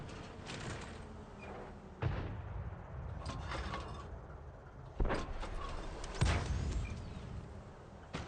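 Three sharp tank gun blasts ring out in World of Tanks, spaced a few seconds apart. A low engine and battle rumble continues underneath.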